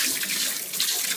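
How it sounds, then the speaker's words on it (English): Running water from a tap pours steadily over potatoes being rinsed clean of dirt, a continuous close hiss and splash with no talking. "There's always a lot of dirt on potatoes, so rinse them well, scrub them up well."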